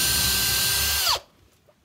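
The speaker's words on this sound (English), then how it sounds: "So with these, you have to drill." A power drill whines steadily into wood at close range for about a second, then winds down and stops, leaving near silence.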